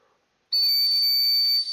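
A toy whistle being blown, starting abruptly after a short quiet and sounding as one loud, steady, shrill tone that holds for about a second before cutting off.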